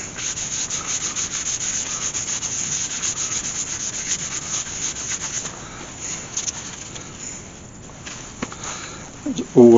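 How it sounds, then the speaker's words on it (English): Sand sealer is rubbed onto a turned ash wood bowl on the lathe, giving a steady, close scratchy rubbing that thins out toward the end with a few knocks. "Now we've put some sand sealer on there."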